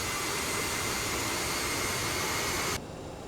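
An Aerosoft CRJ 700 taxis in Microsoft Flight Simulator, its jet engines giving a loud broadband whoosh and hiss that holds steady, then turns abruptly quieter and duller near the end.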